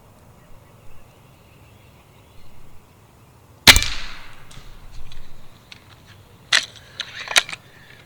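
Hatsan Model 135QE .25 caliber air rifle firing Air Arms pellets: a single sharp crack near the middle, then a few lighter clicks and knocks, over quiet outdoor background.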